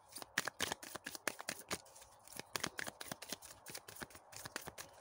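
Tarot cards are shuffled in rapid, crisp riffling bursts close to the microphone, a steady run of papery flicks and taps with no talking.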